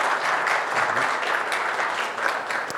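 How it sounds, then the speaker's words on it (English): Steady audience applause for a speaker after a lightning talk at a tech conference, a dense, even wash of many hands clapping close by for about three seconds. "Let's give a round of applause for Karsten."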